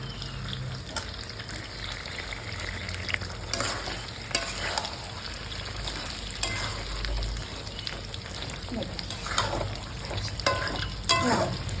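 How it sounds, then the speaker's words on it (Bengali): Food fries in butter in a pan while being stirred, a constant close sizzle broken by scraping and clinking strokes of the utensil. "এই যে এখন কিন্তু নাড়তে হবে একটুখানি।"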